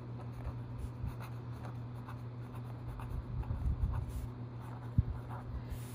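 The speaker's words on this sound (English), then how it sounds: "You're going to write your name." Pen or pencil scratches across paper in quiet, continuous strokes, close up, with a few small taps and no voices.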